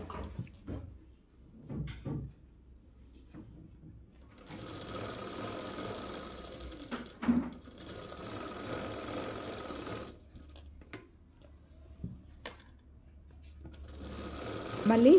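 A sewing machine runs in short bursts of stitching along a double-folded umbrella dress hem, close by and fairly quiet, with pauses and someone talking between runs.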